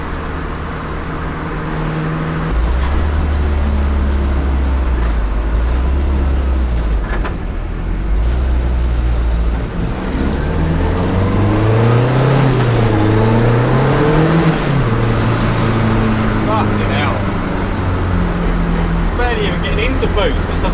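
A Vauxhall Nova with short gear ratios drives along, its engine droning loud and close and rising in a revving sweep midway before settling back to a steady cruise.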